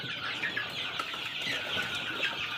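Sonali chickens cluck and chatter in a farm pen, a dense, continuous flock of soft calls close by with no talk over them.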